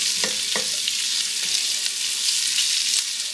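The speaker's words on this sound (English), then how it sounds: "Now I'm going to go ahead and add my 1 diced onion. And I'm gonna let all this just saute in there." One diced onion sauteing in a pot for Puerto Rican salami soup, giving a loud, steady sizzle and crackle with a few soft stirring knocks near the start, and no talk.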